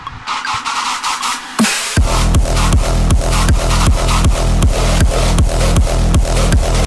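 A simple raw screech synth sound, first as a buzzy pulsing line, then joined by a pounding kick beat for a loud, dense, driving electronic pattern with a harsh, gritty tone.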